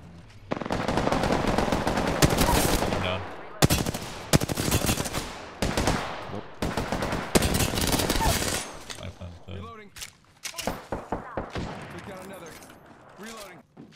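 Rapid automatic gunfire in Apex Legends comes in long bursts and shorter volleys across the whole clip, loud and close, with voices mixed in.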